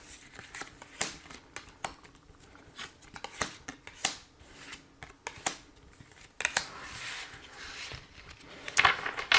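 Tarot cards are shuffled and handled for a reading, giving close, crisp riffling and flicking clicks in an irregular rhythm that grows busier toward the end.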